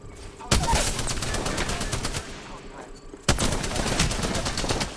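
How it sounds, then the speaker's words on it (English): Sustained automatic gunfire rattles in a video game firefight in two long, loud, rapid bursts separated by a short pause, close and continuous. "I'm getting shot."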